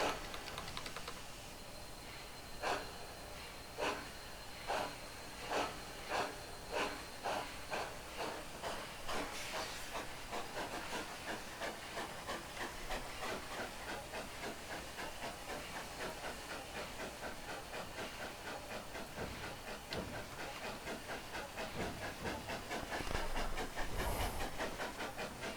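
Skookum 2-4-4-2 steam locomotive in the Trainz 2019 simulator, a continuous steam hiss with rhythmic chuffing pulses early on that blur into a steady rushing wash, fairly close and without talk.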